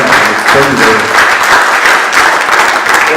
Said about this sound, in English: This is a round of applause to our very own Isaac of Polilolo